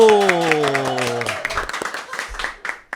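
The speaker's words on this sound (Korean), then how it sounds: "박수" A short burst of scattered clapping from a small studio group on a Christian talk show opens after a falling tonal jingle, with a few uneven claps trailing off within a couple of seconds.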